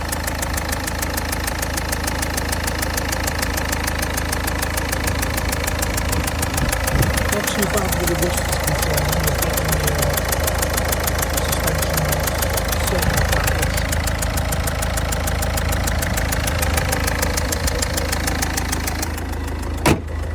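A 2006 Ford Fiesta Mk 6.5 1.4 TDCi diesel engine idles steadily and evenly at close range, with a voice speaking over the continuous rumble.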